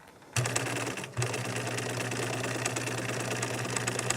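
A sewing machine stitches fabric, starting with a short backstitch, pausing briefly, then running forward in a steady, loud, continuous hum close by, with no talking.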